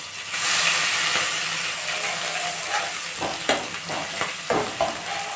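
A paste of green chili, cumin and ginger sizzles loudly in hot oil, the frying hiss constant while a spoon stirs and scrapes the pan in short bursts.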